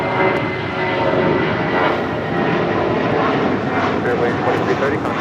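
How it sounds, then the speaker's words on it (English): An Airbus A320 departing Los Angeles International Airport (LAX) on takeoff, its steady broadband engine roar loud and sustained, overlaid with radio-style voices talking throughout. "That was Spirit 2330 departing to Baltimore on an A320"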